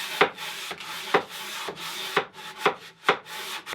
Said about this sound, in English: I want to make sure I hit it all with the same grit of sandpaper